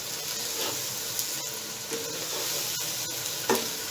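Tomatoes frying in a pan for a green peas pulao, a continuous close sizzle with a few sharp clicks and scrapes as they are stirred, and no voices.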